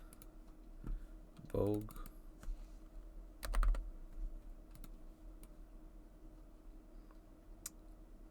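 Short bursts of computer keyboard typing, close clicking keystrokes in two clusters, with a person briefly speaking between them.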